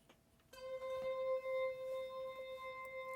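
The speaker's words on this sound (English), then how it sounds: "So the sound is coming live from the Waldorf into the mixer, and then it's coming into Bitwig." A Waldorf synthesizer plays one steady, unprocessed synth tone, clean and unchanging with bright harmonics, starting abruptly after half a second of quiet and holding at moderate level, fed live into a mixer.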